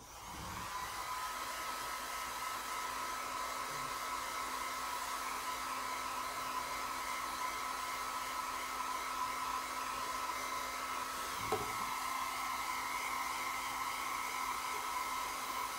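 Hair dryer blowing on a craft project indoors, a steady, moderately quiet whooshing hum running continuously with one brief bump partway through and no talking.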